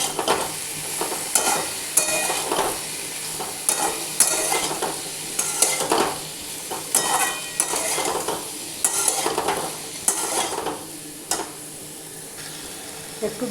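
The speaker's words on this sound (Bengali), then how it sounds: "একটু জল দিয়ে মশলাটাকে ভালো করে ভাজবো।" Cumin, coriander and turmeric masala frying with a splash of water in a pan for a fish curry with pointed gourd, with steady close sizzling and repeated spoon scrapes and stirring strokes throughout.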